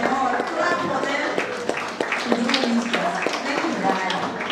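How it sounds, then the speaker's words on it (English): An audience at a book launch claps steadily, a dense patter of hands continuing throughout, close and moderately loud, with voices speaking over it. "So please let's put our hands together."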